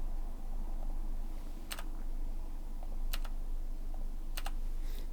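Computer keyboard keys pressed while editing in Premiere Pro, a few sharp separate clicks in small clusters over a steady low hum, fairly close.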